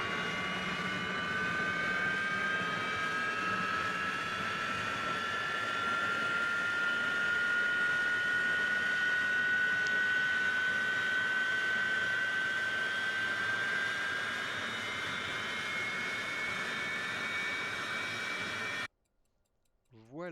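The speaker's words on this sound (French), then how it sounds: "nos trois moteurs sont démarrés" The three engines of a Yak-40 airliner run in a flight simulator, giving a steady, loud, rising turbine whine with a constant rushing hiss, cut off abruptly near the end.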